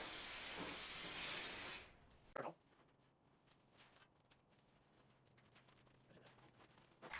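A rattle can of spray primer hisses loudly in one continuous burst for nearly two seconds, followed by quiet rustling and faint handling sounds.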